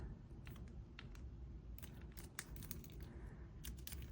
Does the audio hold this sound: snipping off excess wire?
yes